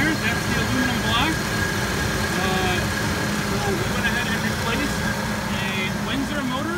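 A Ford 4.6 V8 with an aluminum block, a Windsor engine swapped with Romeo 4.6 parts, runs at a steady, continuous idle with a low engine rumble. Voices talk over it throughout.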